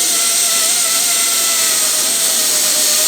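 A dental handpiece finishing the margin of a tooth preparation for a metal-ceramic crown gives a loud, continuous high-pitched whine with a steady tone that barely wavers for the whole stretch.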